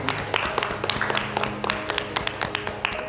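A classroom of students clapping after a chemistry lesson, a thin patter of separate claps with sharp individual hits rather than a full ovation.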